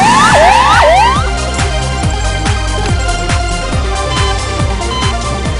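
A 108 emergency ambulance siren, loud and close, starting with rising and falling wails that shift into a rapid repeating yelp pattern, heard alone without talking.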